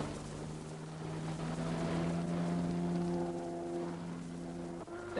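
A 1972 Seafire speedboat with a 35 hp outboard engine runs heavily laden on open water, its motor a steady droning hum under a wash of wind and water noise, with no voices.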